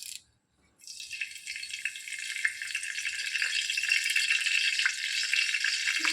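Sprigs of curry leaves drop into hot oil one by one, bursting into a loud, steady crackling sizzle after a brief silent pause, spitting and popping continuously close up with no talking.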